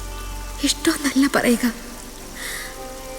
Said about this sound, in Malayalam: മഴയുടെ ഈ ആർത്തിരമ്പൽ എനിക്കെപ്പോഴും ഇഷ്ടമാണ്.